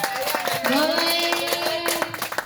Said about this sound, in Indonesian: Tepuk tangannya yang meriah dong.